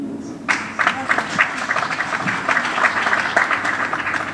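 A crowd breaks into sustained applause, many hands clapping densely and steadily after a quiet start, fairly loud and close throughout.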